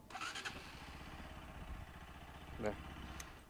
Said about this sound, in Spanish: si lo levantamos hacia arriba y presionamos el embrague, ahí sí prende